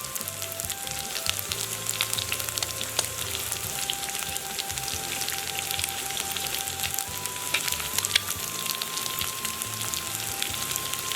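Chicken gizzards frying in a pan with salt, chili powder and cumin and fennel powder, a steady dense sizzle crackling throughout with no talk over it.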